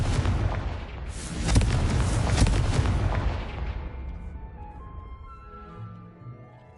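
A Confringo explosion spell goes off in the Hogwarts Legacy video game as a loud, close, rumbling blast that sustains for a few seconds and then fades into a soft tonal tail, with no voices.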